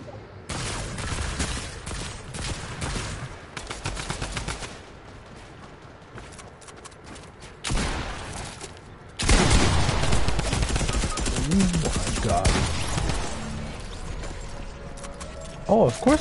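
Drum gun fire in Fortnite, fast rattling bursts of automatic shots in several stretches with quieter gaps between, with a player talking throughout.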